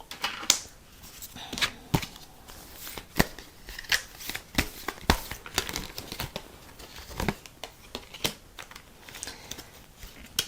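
Tarot cards shuffled in the hands in a rapid, crisp riffling and slapping rhythm, close and steady throughout with no talk.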